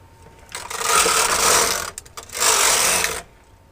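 Knitting machine carriage knitting two rows of ribbing seed stitch: two loud rasping, whirring passes, each about a second long, separated by a short pause and a few clicks, close with no talk.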